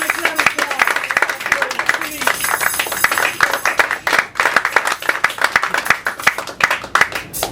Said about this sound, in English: Let's just give you a round of applause.